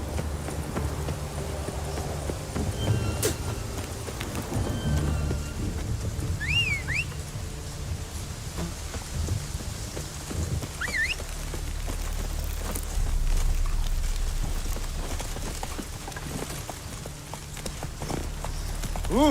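Roach the horse galloping in the Witcher 3 video game, a continuous rapid clatter of hooves under a rushing wash of rain-like noise, with a couple of brief whistles over the top.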